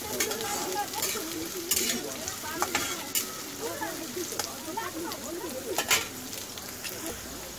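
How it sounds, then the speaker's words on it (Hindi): Chopped beans and carrots frying and being stirred in a pan, a continuous sizzle with intermittent scraping clinks of the spoon; faint birdsong in the background. "सब्जियों को अच्छे से हम भून लेंगे"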